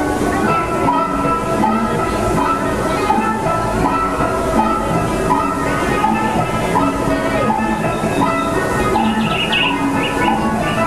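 Steady rumbling of the Disneyland Railroad train rolling along rails, continuous and fairly loud, with faint bird chirps near the end.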